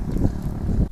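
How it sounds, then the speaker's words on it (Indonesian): Strong wind over a rice field during kite season buffets the microphone, making a steady, loud, low rumbling roar with gusty swells and no voices. "Ini lumayan kencang anginnya di sawah karena sudah musim layangan bosku."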